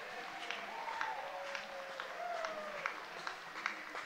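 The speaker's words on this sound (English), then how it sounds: "he gets a cheer from this crowd" A crowd at a baseball game between the London Majors and the Welland Jackfish gives scattered applause and light cheering. The sound is distant and fairly quiet, with a few sharper claps standing out.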